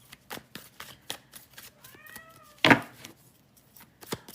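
A domestic cat meows once with a clear rising-falling cry, close by, amid soft shuffling and tapping noises and a sharp rustle right after.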